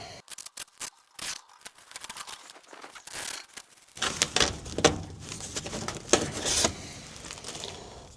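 Scissors snip through weed cloth beside a raised garden bed, first a rapid series of crisp separate cuts, then denser rustling, tearing and crinkling of the fabric, close and clear with no talk.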